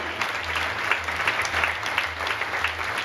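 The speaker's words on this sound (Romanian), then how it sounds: "Aplauze!" An audience at a children's sports dance show claps steadily for the performers, a dense, sustained round of applause with a low hum underneath and no voices rising above it.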